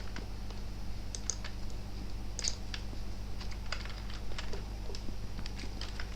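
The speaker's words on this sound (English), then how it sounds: "So you have to type spring" Quick, steady typing on a computer keyboard, a light run of close clicking keystrokes over a low background hum, with no voice.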